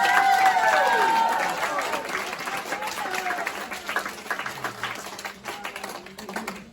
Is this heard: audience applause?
yes